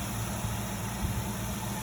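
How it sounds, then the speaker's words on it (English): SN95 Ford Mustang Cobra engine idling after years of sitting, a fairly quiet, steady low rumble with a slightly uneven pulse close by and no speech. "That's a running engine."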